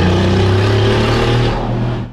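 A Brabus G700 6x6 with a V12 engine roaring loudly nearby as it drives and revs, a dense deep engine drone with a steady low tone that eases slightly toward the end.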